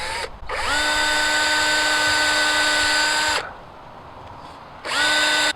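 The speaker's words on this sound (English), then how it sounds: "start my drill bit." A power drill fitted with a dull bit whines loudly and steadily for about three seconds, stops, then starts up again near the end, close-up and with no talking.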